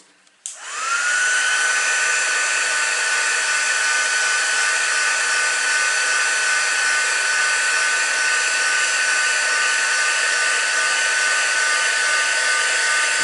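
A heat embossing gun, used on card and vellum, clicks on and then blows hot air with a loud, steady whooshing whine that holds constant for over twelve seconds, close and alone.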